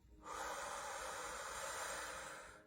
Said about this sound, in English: Connective circular breathing.